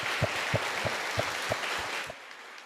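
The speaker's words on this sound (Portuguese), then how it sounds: "eu queria que a igreja aplaudisse ao Senhor Jesus por tudo que Ele fez naquele dia" A church congregation at a Christmas service claps together in a steady, unison rhythm of about seven loud beats, then stops and fades out near the end.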